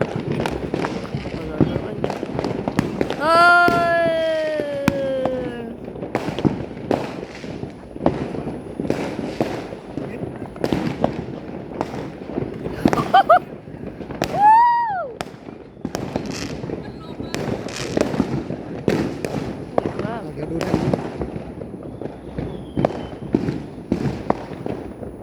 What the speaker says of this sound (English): I see someone just trying to put a firework up.